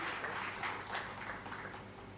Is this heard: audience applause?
yes